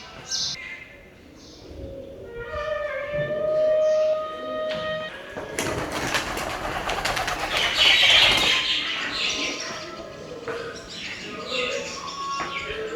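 Pigeons inside a temple flap their wings in bursts and coo softly, with chirps and light tapping echoing in the space; a person talks intermittently over the bird sounds.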